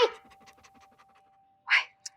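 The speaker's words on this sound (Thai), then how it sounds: "มาเห่าอะไรตรงนี้ ออกไปเลยนะออกไป" A dog pants in rapid, soft breaths close by, followed by a couple of short louder bursts near the end, in an otherwise quiet setting.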